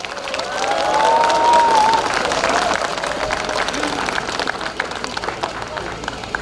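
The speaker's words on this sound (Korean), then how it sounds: "박수 보내주세요." An outdoor crowd at an election campaign rally in Hamyang claps and cheers, swelling loudest in the first two seconds, then settling into a scattered, continuing patter with murmuring voices and babble underneath.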